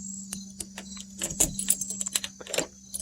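A ring of car keys jangles beside a 2020 Ford Bronco door as it is locked, giving light scattered metallic clinks and small clicks over a faint steady hum.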